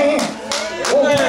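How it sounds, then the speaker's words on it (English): A church congregation clapping their hands during a sermon, with several broad claps spaced through the moment alongside sung or called-out voices and a steady murmur of the crowd. "Right, clap your hands."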